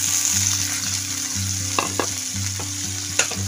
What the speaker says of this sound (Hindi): हल्का सा फ्राई करके लेना है इसकी तेल में